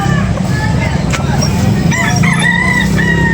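A rooster crows loudly amid a busy scene, with other birds clucking and people chattering in the background.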